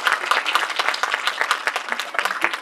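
Audience applause at a school project event, dense and sustained clapping from a crowd filling the whole stretch at steady loudness, with no talk over it.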